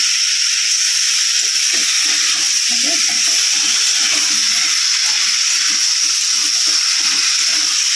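Water poured into a hot cooking pan on the stove makes a loud, steady rushing hiss that holds evenly for about eight seconds, with no voices.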